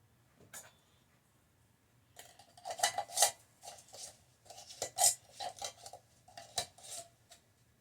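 A jar rim wiped with straight vinegar while pressure canning oven-roasted turkey: quiet rubbing with scattered light glass and metal clinks and taps, close and intermittent, with no talking.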